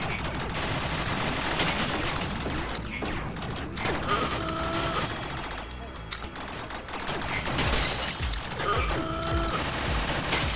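Rapid bursts of video-game gunfire from Rec Room fill the scene, dense automatic volleys with a mechanical rattle that pause briefly and then resume, close and continuous.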